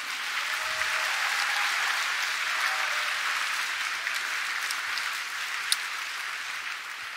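A church congregation applauds in praise of Jesus at a bilingual English and Polish service, a steady, even wash of many hands clapping that fills the room without letting up.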